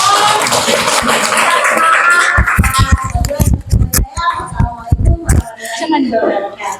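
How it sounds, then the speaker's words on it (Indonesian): Students applaud in a classroom, a dense burst of clapping that breaks into scattered, uneven claps with children's voices and chatter mixed in close by. "Tepuk tangan untuk kalian semua."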